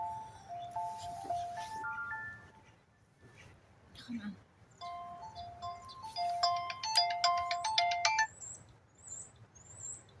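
A phone ringtone from a spam call plays as a melodic tone sequence that repeats, then rises into a busier, louder chiming run before stopping abruptly, with low background rumble and some talking.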